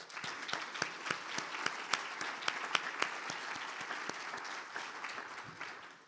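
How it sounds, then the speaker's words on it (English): Audience applause at a retina conference public engagement day, a dense sustained patter of many hands clapping from a moderately sized crowd, steady throughout and tapering slightly at the end. "So let's give them a round of applause."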